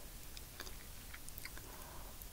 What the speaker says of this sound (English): There's a lot of people who like the sound of gum chewing, or eating.